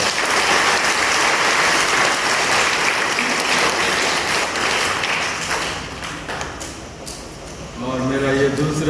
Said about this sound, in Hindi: तो आइए हम उनके लिए जोरदार ताली बजाकर उनको